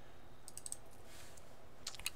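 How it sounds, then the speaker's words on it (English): Quiet computer keyboard typing: a few light clicks in a quick cluster, a pause, then another short burst of keystrokes, faint and near. "So here he is typing it in."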